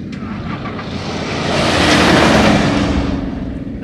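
An off-road bakkie roars past at speed in a 400 m drag race, a broad engine and tyre rush swelling to a peak midway and easing off, loud and close.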